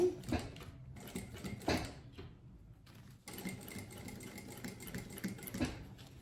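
Sewing machine running a straight seam with backstitch at the start and end, in bursts of steady close rapid needle clatter separated by brief pauses.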